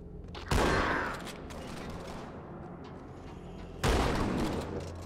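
Gunfire in Halo 2: Anniversary comes as two loud bursts, one near the start and one near the end, over a steady low rumble of game ambience.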